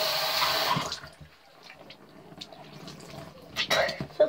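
Tap water running into a bathroom sink during a night face-washing routine, a steady splashing stream at first that fades, then brief louder splashes and drips near the end.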